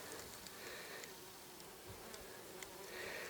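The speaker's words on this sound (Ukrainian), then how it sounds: "тут така кількість бджіл, що вони заважають одне одній" Many bees buzz steadily nearby around flowers, a continuous layered drone with occasional louder passes close by, and no voices.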